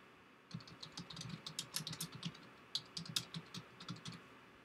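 Rapid keystrokes clatter on a computer keyboard as a value is entered, a close, quiet run of uneven clicks that starts after a brief pause and continues to the end with no speech.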